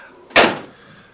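The door of a classic truck with a 302 V8 and a 4-speed overdrive is shut with a single sharp, loud slam that rings briefly and dies away.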